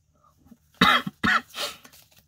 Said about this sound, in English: And as you can see, I still got a lingering cough, which is quite annoying